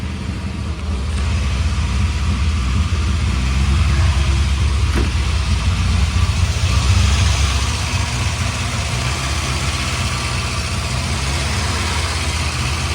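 A 1966 Morris Minor engine idles steadily while warming up, a deep, constant low rumble, running alone without interruption for the whole stretch.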